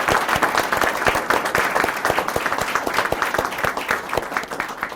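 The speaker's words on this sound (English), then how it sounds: "Let's give these kids another round of applause." An audience at a city commission meeting gives schoolchildren a loud round of applause. The close, full clapping carries many distinct hand strikes and stays strong and even for the whole stretch without thinning out.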